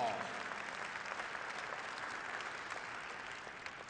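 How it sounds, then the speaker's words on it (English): An audience applauds a staff member at a leadership event, a dense, even wash of clapping that holds steady and tapers slightly, heard at moderate distance with no talk over it. "Let's give Ben a round of applause."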